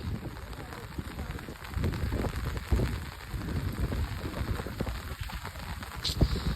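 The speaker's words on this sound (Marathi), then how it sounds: "या पावसाबद्दल काय बोलशील तू" Steady heavy monsoon rain pours down, a dense hiss of drops on surfaces continuing throughout, with faint voices underneath.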